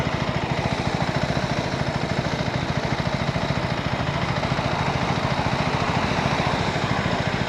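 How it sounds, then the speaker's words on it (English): A motorcycle engine idles steadily for a long stretch, its even rapid pulsing loud and close with no voices over it. "I'm sorry, bike. I know we're idling a long time."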